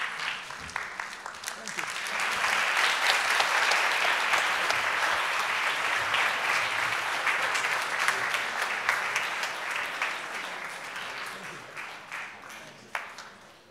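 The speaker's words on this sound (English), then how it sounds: "Please give him one more round of applause." A conference audience applauds after a history lecture, scattered claps swelling into full, sustained applause, then thinning out to a few last claps at the end.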